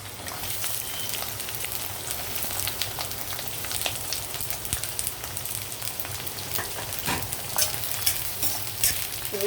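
Garlic and onions frying in a pan while being stirred, a steady crackling sizzle with scattered spatula scrapes and pops, close and continuous with no talk.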